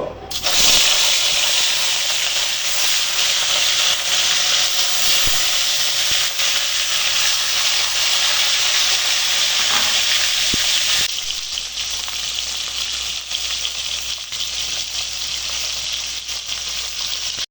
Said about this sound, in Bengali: কড়াইতে সর্ষের তেল দিয়ে নিয়েছি এখন মাছগুলো আমি দিয়ে দিব